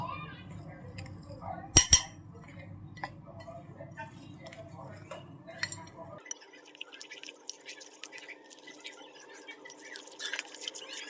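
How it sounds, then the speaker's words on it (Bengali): A semolina batter with milk is whisked in a bowl, giving light, quick, irregular clinks and taps against the sides, fairly faint, with a couple of sharper knocks near the start. "এখন আমি এটাকে ভালো করে ফেটে নেব"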